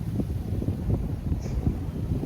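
Wind pounds the mic with a constant low rumble and choppy thumps, steady and close throughout.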